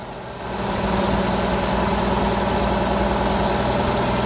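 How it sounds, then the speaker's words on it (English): A cold Jeep CJ-7 engine with Holley Pro-Jection throttle-body injection runs on high idle, a steady, loud, even drone with constant low rumble that builds slightly in the first half second, then holds with no talking. "it's still stone cold, so it's going to be up on high idle"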